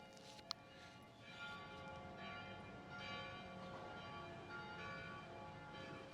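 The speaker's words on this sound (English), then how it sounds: "Oh, you hear those church bells?" Church bells ringing in Florence, faint and distant, a soft sustained metallic ringing with layered overtones under quiet outdoor ambience, preceded by a single sharp tap near the start.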